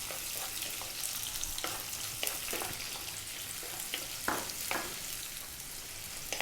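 Sliced onion, a cup of it, frying in infused oil in a pan for channa rice, a steady close sizzle broken by occasional louder crackles and stirring scrapes, with no voices.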